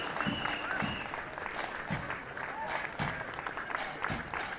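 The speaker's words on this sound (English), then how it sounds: "Give Declan a big round of applause." A crowd at a St Patrick's Day parade in Sligo applauds a young band member's birthday, fairly soft scattered clapping with voices mixed in.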